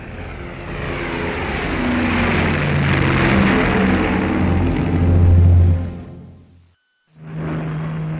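Avro Lancaster bomber engines drone loudly and steadily, the roar swelling toward a peak, then cutting out suddenly. After a brief silence, a lower engine hum returns.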